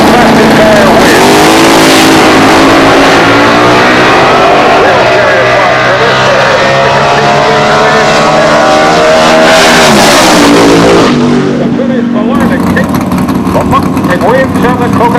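Drag race cars launch side by side in a heads-up race, engines screaming loud and close as they rev and accelerate hard, the roar holding steady then cutting away near the end, with an announcer talking over it.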